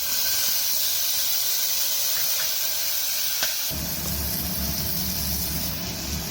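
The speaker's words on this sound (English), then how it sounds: "you can add tomatoes to this and fry nicely" Tomatoes frying in a pan for pepper chicken gravy, a steady close sizzling hiss that thickens with a louder, fuller crackle partway through as the tomatoes go in, with no talking.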